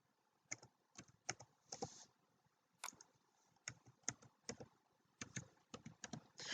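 Numbers being typed into Excel on a computer keyboard, close and clear, with quick irregular bursts of key clicks and short pauses between them, and no talking.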